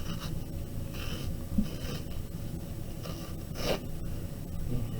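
Paper torn into pieces by hand at close range, several short ripping bursts spaced a second or so apart over a faint hiss, no voices.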